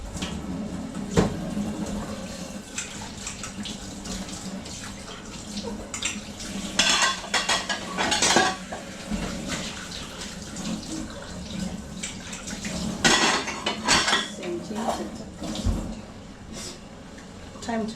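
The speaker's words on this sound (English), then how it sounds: "I'm draining the water from the githeri." Water from cooked githeri draining into a sink, with splashing, trickling water and clinks of a pot and utensils, some louder bursts, under occasional talk.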